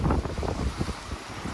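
Wind gusts across a clifftop above the sea in Crimea, loud, close rumbling buffeting on the microphone with a constant rushing roar and no voices.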